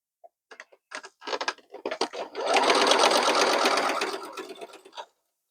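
A sewing machine stitches quilt block pieces with little yellow squares, first in short separate bursts of stitching, then in one longer, fast continuous run. The machine sounds close and clear, with no talking.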